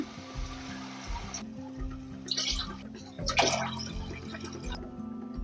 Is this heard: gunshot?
no